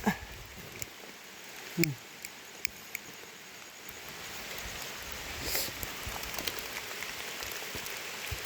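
Rain falls outdoors near a waterfall: a soft, continuous patter on surfaces, punctuated by a few sharper drops and brief knocks, holding fairly steady and close throughout.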